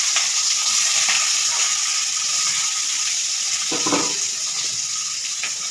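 Chopped onion and bay leaf sizzle in hot oil with a little salt for chicken kosha, a steady close frying hiss throughout with a brief stirring scrape near the middle.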